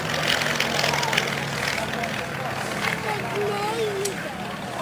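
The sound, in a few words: Percival Pembroke C.1 propeller aircraft at air show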